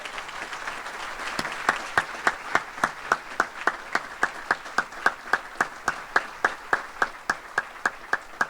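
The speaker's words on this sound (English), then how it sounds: "let's give these deputies one more round of applause" An awards-ceremony crowd applauding deputies breaks into rhythmic, synchronized clapping, a steady beat of sharp unison claps over a softer bed of scattered applause, moderately loud and without talk.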